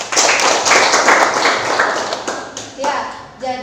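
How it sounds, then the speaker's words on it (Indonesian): A burst of children clapping together in a classroom, loud and lively, tapering into a few scattered claps at the end. "Silakan anak-anak berikan tepuk tangan ke kelompok 1."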